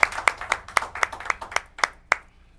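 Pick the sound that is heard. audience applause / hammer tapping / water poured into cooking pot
audience applause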